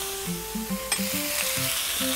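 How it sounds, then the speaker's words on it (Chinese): Napa cabbage stems stir-fried in a pan alongside wood ear mushroom give a close, steady sizzle with light scraping of the spatula for a couple of seconds. "所以我们要先炒一下，稍微加一点水，"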